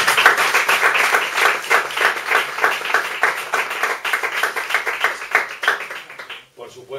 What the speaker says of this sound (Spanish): os aplaudo